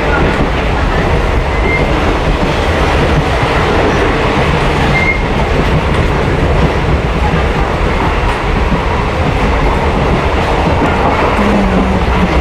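Steady, loud rumble and rattle inside a moving passenger train on the Dhubri to Cooch Behar route, with continuous rail and wheel noise filling the whole stretch and no clear talk.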